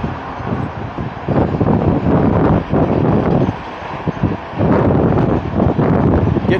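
Strong gusts of wind buffet the microphone on a causeway, roaring in loud surges that rise and fall across the moment with no clear talk.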